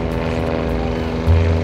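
A vintage German light propeller plane, a counterpart of the Piper Cub, passes during an air meeting, its engine a steady droning hum that swells slightly near the end, loud and alone.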